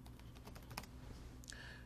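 A password is typed on a computer keyboard, a brief run of soft, quick key clicks, faint and close, with no talking.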